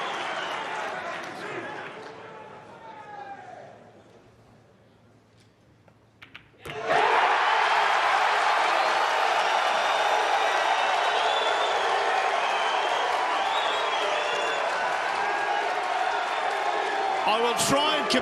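A crowd at a Mosconi Cup pool match, Team USA against Team Europe, bursts into a loud, sustained roar of cheering, whooping and applause after a quieter stretch of murmuring and talk.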